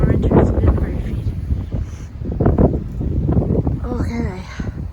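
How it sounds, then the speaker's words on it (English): Strong wind gusting outdoors on a cold day, buffeting the microphone with a steady low roar and rustle while a person talks over it throughout. "It's really windy"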